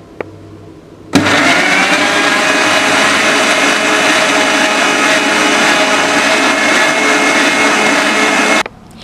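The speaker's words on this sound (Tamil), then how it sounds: "ஸோ இப்போ இதை பிளெண்ட் பண்ணிட்டு பார்க்கலாம்." A kitchen blender purees tender coconut and palm fruit into juice, starting abruptly and running as a loud, steady motor whir for about seven seconds before stopping, with no voices.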